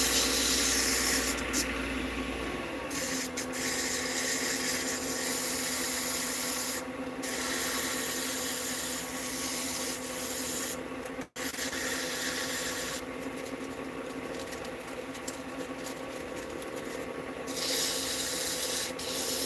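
Sandpaper rubs steadily against a turned pen spinning on a wood lathe, a continuous close abrasive hiss with brief pauses and one sharp dropout near the middle, no talking.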